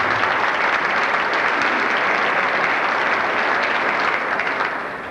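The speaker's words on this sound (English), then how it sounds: "Give them a round of applause." Award recipients at a high school awards night receive audience applause, a dense, steady roar of many hands clapping at close range that begins to fade near the end.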